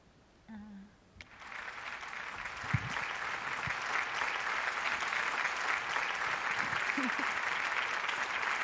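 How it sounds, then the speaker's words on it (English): A small audience at an open mic bursts into steady, enthusiastic clapping after a brief pause, sustained and close throughout, with a voice briefly heard at the start. "they really know how to clap"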